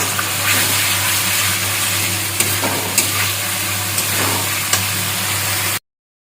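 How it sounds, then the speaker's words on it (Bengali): Fried potatoes are sautéed in masala in a pan, producing a loud, steady sizzle with a low background hum and a few light spatula clicks, ending abruptly; no voices. "এখন আরও পাঁচ মিনিট মতন আমি এটাকে কষিয়ে নেব"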